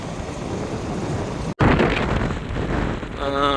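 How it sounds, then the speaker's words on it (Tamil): Water rushes out of the overflowing Kilinochchi tank, a village reservoir swollen by floods, as a loud, continuous broadband roar with a brief dropout partway and some wind buffeting the microphone. "கிளிநொச்சி குளத்தாலே ஞாபகம் தண்ணி பாஞ்சு கொண்டு இருக்கு."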